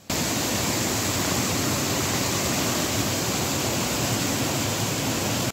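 A waterfall among rocky boulders near Hyderabad roars steadily and loudly, a dense, unbroken rush of falling water filling the whole clip.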